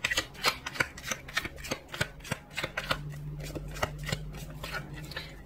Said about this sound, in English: Just as I'm shuffling the cards,